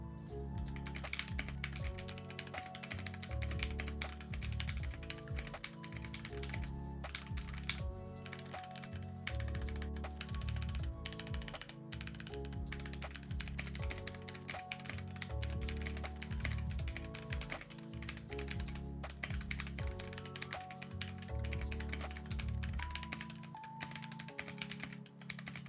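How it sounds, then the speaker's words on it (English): Fast, clicky typing on a computer keyboard during a stream, an irregular patter of keystrokes under steady background game music. "Dude, listen to how nice my keyboard sounds"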